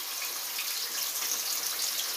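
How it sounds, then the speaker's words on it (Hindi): Marinated chicken pieces fry in hot oil with a loud, steady hiss and sizzle that stays constant and close, and no one speaks. "अब मुझे इसमें डाल के इसको फ्राई करना है अच्छे से"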